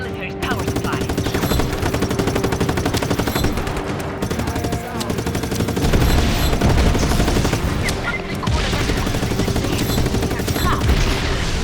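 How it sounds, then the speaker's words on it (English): A car-mounted machine-gun turret in Just Cause 3 fires sustained rapid bursts, loud and dense throughout, with brief dips between volleys and gameplay sounds layered underneath. "get one of these cars, the ones with the MG turrets on top, and just switching between driving and the MG turret"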